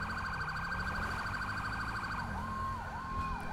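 A police car siren in the GTA 5 video game wails steadily and loudly throughout, with its pitch rising and falling in a smooth repeating sweep.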